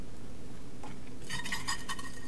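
Rice batter for Quang Nam sesame rice crackers hits a hot frying pan and sizzles, a short burst of bright hissing crackle rising near the end after quiet clinks.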